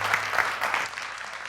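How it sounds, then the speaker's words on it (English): Brief burst of dense audience applause after a career talk, many hands clapping together in a steady wash that fades slightly at the end. "Let's please keep that round of applause going for Jullien Gordon."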